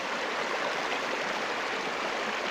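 A river near a house flows steadily on a quiet morning, its broad, even rush of water holding close and continuous without any voices.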